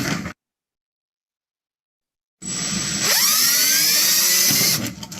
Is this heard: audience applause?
no